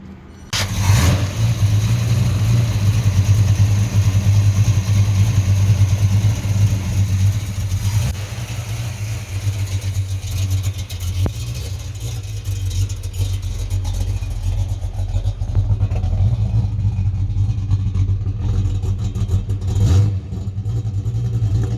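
A red 1976 Holden LX Torana's 308 V8 with a lumpy 286 cam fires up and idles loudly and unevenly, close by, with a couple of brief blips of revs in a long, steady rumble.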